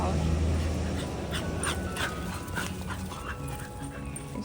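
A puppy panting and whimpering while playing out in a yard, close and soft, with a voice talking over it.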